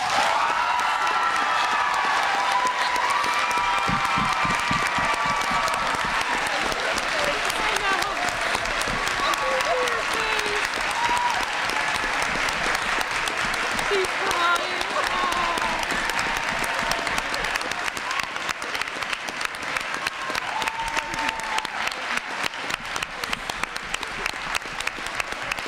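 Sustained applause from the audience at a county spelling bee, a dense wash of many hands clapping with some voices murmuring underneath, steady and fairly loud throughout before thinning slightly near the end.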